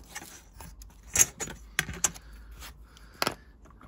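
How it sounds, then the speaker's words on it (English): An offcut of card for a scale model is cut by hand with a few separate sharp clicks and scraping snips spread irregularly over a few seconds, quiet and close. "we're just going to use an off cut of card and cut it just to slightly wider than the opening"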